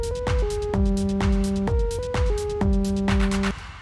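A techno supersaw lead synth in Serum plays a repeating pattern of stabbed chords, each hit punchy over a pulsing kick-like low end, loud and alone, ending with a fade.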